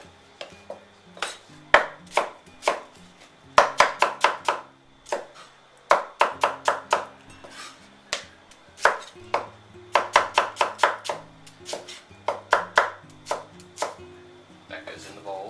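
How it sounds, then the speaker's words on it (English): A knife chops a medium white onion on a cutting board in quick bursts of sharp, close taps separated by short pauses, repeated across the whole stretch. "A white onion, one medium-sized white onion. Cut it, peel it off, first layer."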